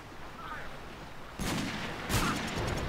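Two sharp gunshots in a video game duel, the first around mid-clip and a second shortly after, each a loud crack over quiet background noise.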